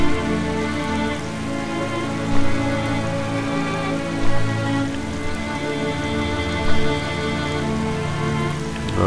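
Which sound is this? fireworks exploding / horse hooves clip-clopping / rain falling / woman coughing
rain falling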